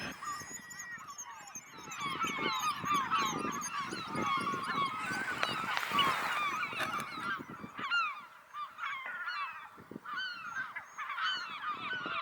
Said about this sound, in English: I left the birds to squabble amongst themselves